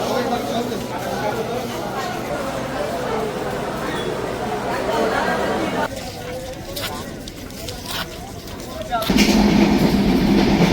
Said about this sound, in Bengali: আমরা এখন রেলওয়ে স্টেশনে আছি।